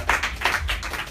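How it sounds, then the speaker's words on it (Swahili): A church congregation at a Bible study and prayer service claps together in a quick, rhythmic run of several bursts, moderately loud and lively. "Tupigie Bwana makofi makubwa"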